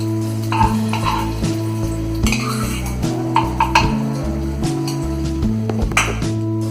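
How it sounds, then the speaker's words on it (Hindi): Metal utensils clink and scrape against a pan while ghee goes in for frying potatoes for vrat aloo; scattered light clanks and a steady low hum, close by, no talking. "अब हम आलू फ्राई करने के लिए इसमें घी डालेंगे"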